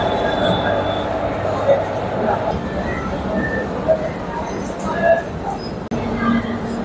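Inside the C3 compartment of the Dhauli Express, a daily passenger train from Shalimar to Puri, a continuous rolling rumble with metallic squeals and clatter runs throughout, with faint voices in the carriage.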